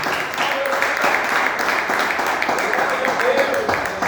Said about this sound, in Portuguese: aplauda o nome do Senhor